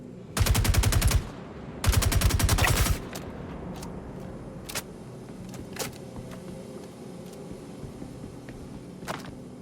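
Gunfire in the Star Citizen video game hits the shield of an Ursa rover, two loud rapid machine-gun bursts followed by quieter scattered single shots and clicks.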